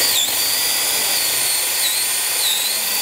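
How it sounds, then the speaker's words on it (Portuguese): A flat spade drill bit bores steadily through dense maçaranduba hardwood, giving a loud, continuous high-pitched whine with slight pitch sweeps as the bit loads and frees, heard alone without talk. "A gente tá furando a maçaranduba, tá? Não é madeirinha qualquer, não."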